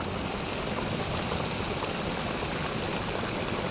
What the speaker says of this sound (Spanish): El agua está hirviendo.